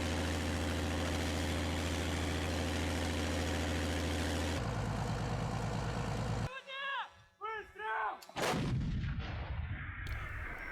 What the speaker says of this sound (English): Russian forces from the 291st Artillery Brigade are firing two S-7M Malka, an improved 210 variant of the 2S-7 Pion